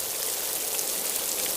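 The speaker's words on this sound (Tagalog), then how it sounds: "Bigla naman bumuhos ang malakas na ulan." Heavy rain pours steadily, a dense continuous hiss of drops on surfaces that stays even and fairly close, with no voices over it.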